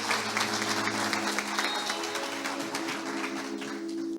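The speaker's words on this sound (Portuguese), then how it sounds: "Salva de palmas para eles." A church congregation claps and applauds steadily for several seconds, a dense close wash of hands with a faint sustained tone and murmuring voices beneath.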